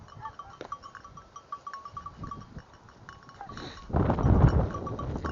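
Lambs bleating in short calls amid a busy sheep farmyard, with a louder, noisier stretch of animal sounds toward the end.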